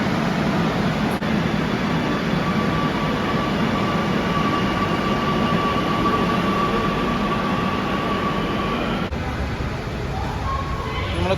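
A Kochi Metro train runs with a steady, loud rumble and rushing noise. A faint whine rises and holds for several seconds.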